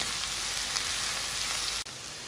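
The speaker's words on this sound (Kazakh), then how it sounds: "Жай қуырып бастаймыз." Finely chopped carrots fry in oil in a pan for potato cutlets, a loud steady sizzle that runs unbroken before cutting off abruptly near the end.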